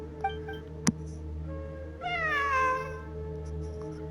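Cat in the video game Genshin Impact, in the Sumeru ruins, giving one clear drawn-out meow over a steady hum of game music and ambience, with a sharp click just before.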